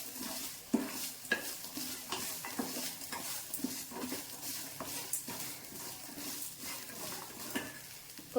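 Cooked rice stirred in a pan over low gas flame, a continuous run of scraping spoon strokes in a loose repeating rhythm, close by, with a faint sizzle underneath.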